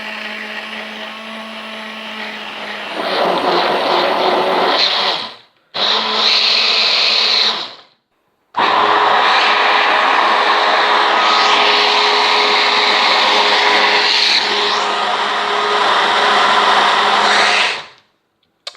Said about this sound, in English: The best way to do it is with a hand blender.